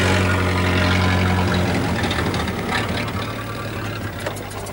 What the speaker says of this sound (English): let the magnificently maintained heart of his car tick over happily at under 100 revs per minute